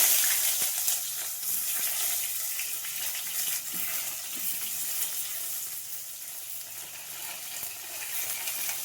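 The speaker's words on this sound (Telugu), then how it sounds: "ఆవాలు చిప్పట్లాడాయి తరిగిన ఆనియన్స్ వేసుకుంటున్నాను" Chopped onions frying in hot oil with spluttering mustard seeds and cumin, a steady close hiss and sizzle with crackling pops throughout, no voices.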